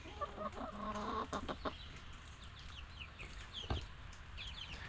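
Backyard chickens cluck in short, soft bursts close by, with a few sharper calls and cheeps mixed in against a quiet outdoor background.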